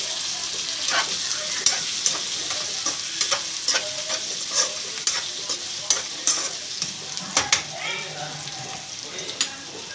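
Potatoes go into onions softened in oil for a potato curry, making a lively sizzle broken by repeated scraping stir strokes of a spoon in the pan, close and busy throughout.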